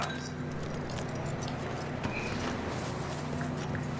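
Horse hooves clip-clop at a steady walking pace in Red Dead Redemption 2, a continuous mid-level rhythm over a dense wash of game ambience with no voices.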